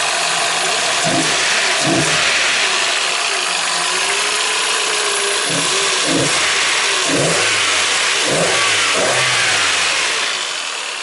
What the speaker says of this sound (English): And finally engine is running.